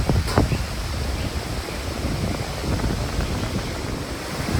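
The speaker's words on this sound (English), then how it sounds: "So it's the end of the day and it's still windy." Steady, roaring winter wind buffets the microphone continuously outdoors by fish ponds, a dense broadband rush with no talking.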